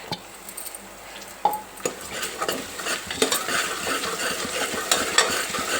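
Onion, green chilli and spring onion frying in a pan, a continuous close sizzle with frequent scraping and clinking of a spoon stirring against the metal, no one speaking.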